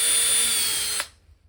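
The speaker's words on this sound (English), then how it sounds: "See if I can do this without snapping off this tiny drill bit." A small power drill with a tiny bit, drilling during motorcycle headlight work, whines steadily at a high pitch for about a second, then cuts off and spins down into quiet.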